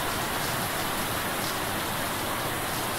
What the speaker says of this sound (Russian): Опять ливанул дождь, короче.